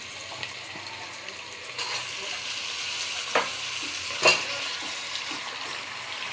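Nalli marrow bones fry in oil in a home kitchen, a low steady sizzle broken by a few sharp pops and spatters, faint and close with no talking.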